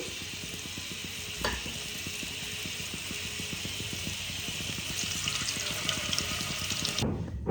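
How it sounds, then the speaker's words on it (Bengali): Chhana (paneer) balls frying in hot oil give a steady, dense sizzle with fine crackling throughout, one brief louder pop early on, and a clatter near the end. "বাদ বাকিগুলো আমি আবার ভেজে নিচ্ছি"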